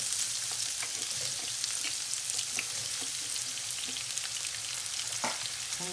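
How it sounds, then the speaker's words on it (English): Onions sizzle steadily in a hot pan with a few tablespoons of oil for chilli chicken wings, a continuous close frying hiss broken by occasional scraping stir taps. "stir and fry for about 2 minutes"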